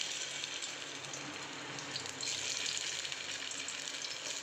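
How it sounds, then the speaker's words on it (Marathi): Bitter gourd slices shallow frying in a pan of hot oil, a steady close sizzle with a brief rise in intensity midway, no voices. "तेल गरम झालेलं आहे आता आपण एक एक सक्ती याच्यामध्ये ठेवून घेऊ"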